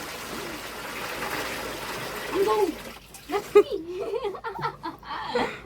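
Water splashes and slurps as cattle drink, with people talking nearby over the sloshing.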